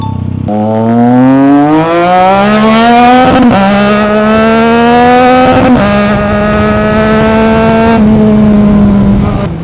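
A 2025 Triumph Trident 660 motorcycle with an aftermarket Red Exhaust revs loudly up close, its engine note climbing through several rising pulls with brief dips between, then holding a high steady drone.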